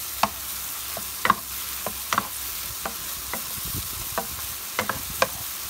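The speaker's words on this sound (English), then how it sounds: "We fry a little bit." Minced garlic fries in a pan with a soft, steady sizzle, broken by sharp scrapes and clicks from stirring at close range.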